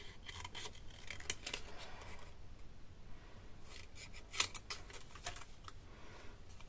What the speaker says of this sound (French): moi j'ai découpé au ciseau comme ça